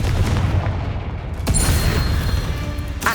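Blasting spell explosions in the Hogwarts Legacy video game on PS5, a heavy rumbling boom sustained throughout with a sharp crack midway and another near the end, loud and dense with no talk.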